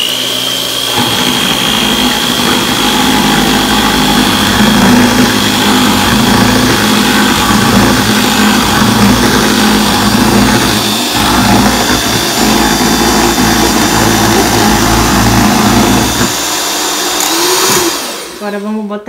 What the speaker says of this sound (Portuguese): Eu vou ligar a batedeira, tá?